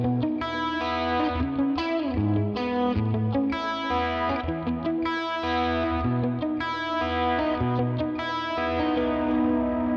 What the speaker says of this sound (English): my chorus rhythm preset, which of course uses the chorus pedal